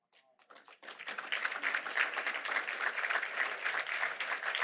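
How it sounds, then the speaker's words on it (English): Audience applause rises after a brief pause and fills a hall at a Gala for Gaza keynote for Dr. Norman Finkelstein, a dense, sustained clapping crowd that stays loud and steady throughout. "Can we get one big round of applause for Dr. Finkelstein?"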